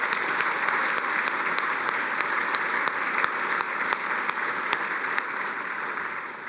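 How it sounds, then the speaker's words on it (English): Steady, dense audience applause for the veterinary medicine school at a chancellor's breakfast, a continuous wash of many hands clapping with a few sharper claps standing out, no talking over it. "So please join me in giving Vet Med a round of applause for this one"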